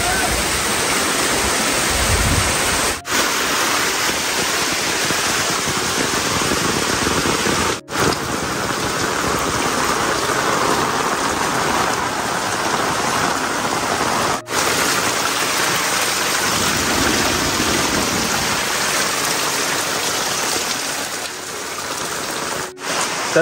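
Heavy monsoon rain pours down in a Konkan village, a dense, steady roar that stays loud and unbroken throughout, with no clear voices over it.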